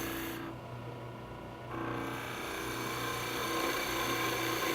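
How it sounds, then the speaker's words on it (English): A skew chisel makes light heel cuts on a Christmas ornament spinning on a lathe, a thin scraping hiss that drops out briefly and then returns over a steady motor drone. "just making light cuts. Using only the heel of the skew or the lower corner"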